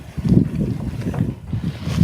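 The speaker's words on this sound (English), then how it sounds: "Of course, the wind's blowing up" Gusty outdoor wind buffets the microphone in low, uneven rumbling pulses, close and fairly loud, with no voices.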